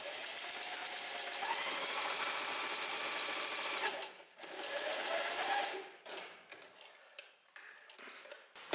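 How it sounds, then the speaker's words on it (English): Sewing machine running in steady bursts while stitching a beginner's mini skirt along shallow half-centimetre cuts, a close, continuous whir that pauses briefly around the middle and breaks into short stop-start runs toward the end, with no talking. "now I'm gonna start sewing here, where we have the little half centimeter deep cuts"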